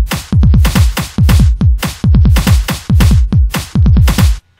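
Programmed breakcore-style drum loop recreating a famous sampled drum break, punchy booming kicks with snappy snares and hats in a steady, syncopated pattern, loud and continuous with no voices.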